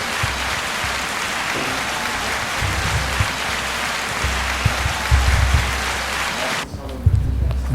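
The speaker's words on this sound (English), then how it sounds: "y'all know we have to give an applause for the" An audience applauds a sponsor on the Gus and Low Show, a dense, loud, rain-like wash of clapping that holds for several seconds and then drops off abruptly.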